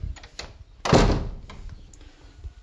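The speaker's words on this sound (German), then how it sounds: "So, das ist das Fliegengittertürchen und hier ist die normale Tür." A villa door opens with a single solid thunk near the middle, followed by softer rattles and knocks from the screen door and the regular door.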